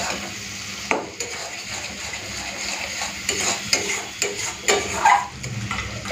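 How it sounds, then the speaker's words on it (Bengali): Chicken curry spice paste with potato fries in a pan while a utensil stirs and scrapes it, giving a steady close sizzle broken by irregular clinks and scrapes against the pan, with no talk. "এরপরে আর কিছুক্ষণের জন্য এখানে মশলাটাকে কষে নেব"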